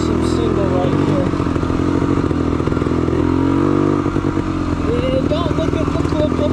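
A 1975 Yamaha DT250 vintage dual-sport motorcycle labours up a rocky mountain trail, its engine droning loud and close with shifting revs and clattering, while someone talks over it.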